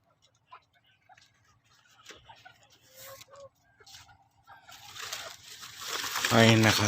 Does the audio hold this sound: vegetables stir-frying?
no